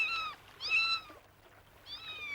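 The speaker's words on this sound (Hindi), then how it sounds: "बेचारी छोटी सी बिल्ली।" A small cat gives three high, clear meows close by: two in quick succession, then a pause and a third, with no other sounds.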